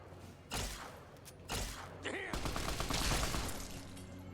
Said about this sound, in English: Shot him in the ass.